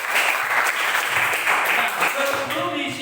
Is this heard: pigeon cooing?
no